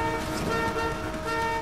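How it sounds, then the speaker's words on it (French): A car horn in the video game GTA V Online blares as one sustained, loud, steady honk that holds through the whole moment over the road noise. "Arrête de klaxonner."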